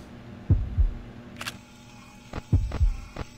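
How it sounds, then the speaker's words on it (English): Heartbeat in a FNAF remake horror video game: two pairs of deep, thudding double beats, loud and close, separated by a pause, with a brief click between them over a low hum. "Why is there a heartbeat?"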